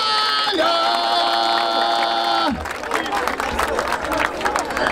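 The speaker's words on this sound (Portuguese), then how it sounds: "Palmas pra essa batalha!" A long held vocal tone gives way to a roar of crowd cheering and clapping at the Batalha da Aldeia rap battle in Barueri, São Paulo, loud and close, with shouting voices mixed in.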